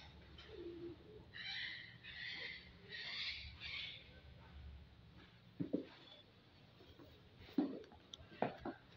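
Soft, low hoots of an owl repeat several times in a quiet outdoor setting, followed by scattered faint chirps and small noises.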